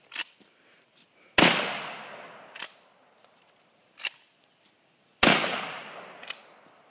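A sawed-off 20 gauge Winchester pump shotgun fires outdoors, two loud, sharp blasts with long decaying tails, separated by smaller clicks and clacks of the pump action.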